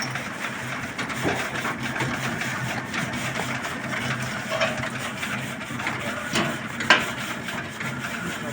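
A grain winnowing machine, driven by two belts with working brushes, runs outdoors in a steady mechanical drone with rattling and occasional sharp clicks and knocks.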